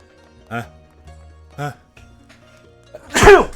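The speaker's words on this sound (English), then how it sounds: "I sneezed!" A single loud, sharp sneeze bursts out near the end, close to the microphone, after two short vocal sounds and quiet background noise while a person plays the Octopath Traveler video game.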